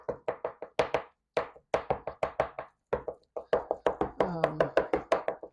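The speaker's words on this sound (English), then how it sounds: "Continue to chop it up." A knife chops salmon on a board to mash it into a burger patty, giving quick, close, rhythmic knocks in fast runs with short pauses, and a faint voice near the end.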